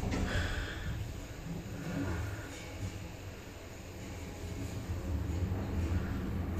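A Schindler traction elevator in Bat Yam runs with a steady low mechanical rumble and broadband noise, with rain audible throughout.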